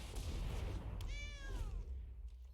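A cartoon cat meows once, bright and clear, as a kitty card is cast in MTG Arena Brawl, a short rising-and-falling call over steady game background noise.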